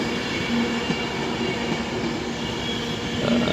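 Virgin Class 390 electric train, unit 390-043, pulling out of Crewe station bound for London Euston, a steady rolling rumble with faint wheel squeal held at an even, fairly loud level with no one talking.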